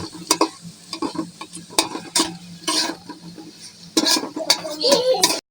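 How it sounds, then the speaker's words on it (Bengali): Onions for bhuna khichuri fry in a pan with a close, bright sizzle, broken by repeated irregular scraping strokes of a spoon stirring against the metal, loudest toward the end. "পেঁয়াজগুলো ভেজে নেব"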